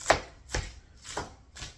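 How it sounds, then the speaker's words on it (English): Knife blade chopping shredded lettuce on a cutting board, swung back and forth like a cleaver, giving four sharp, evenly spaced chops close by with no talking. "I'll show you my technique for shredding lettuce. And it's to use the knife like a cleaver and go back and forth,"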